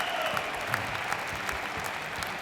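Crowd applause at a professional squash match, the 2015 Grasshopper Cup, steady and fairly distant clapping filling the hall for a couple of seconds.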